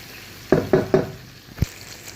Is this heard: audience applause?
no